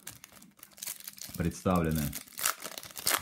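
A foil packet of Topps Turbo Attax Formula 1 trading cards is torn open, with a close, crinkly rip and rustle while someone speaks Russian.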